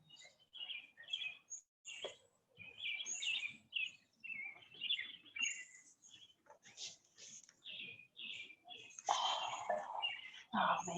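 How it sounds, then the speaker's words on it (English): Birds sing in a park on a quiet morning, with many short, bright chirps and twittering phrases repeating close by and overlapping steadily. "Love the birds."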